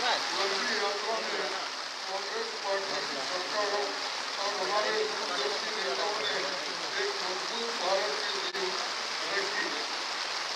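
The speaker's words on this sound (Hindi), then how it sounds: "बारिश बहुत ज्यादा हो रही है इसलिए शायद आवाज ठीक से नहीं आ रहा है।" Heavy rain pours steadily outdoors during an Independence Day flag-hoisting at a Congress party headquarters, a dense continuous hiss with a spattering texture and a faint murmur of voices underneath throughout.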